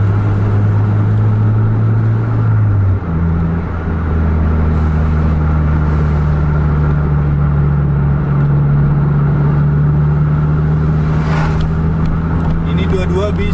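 Two Scania buses, a JRG and a Kurnia coach on the Medan to Banda Aceh route, duel side by side on a road through East Aceh; a loud, sustained engine drone shifts pitch as one accelerates, with talk over it.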